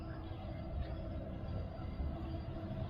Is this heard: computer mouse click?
no